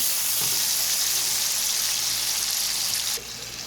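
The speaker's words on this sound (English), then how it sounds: "Now I'm going to let this cook some with the onions." Cabbage and green beans cook with onions in a hot pan, giving a loud, constant sizzling hiss close up that drops suddenly to a softer simmer near the end.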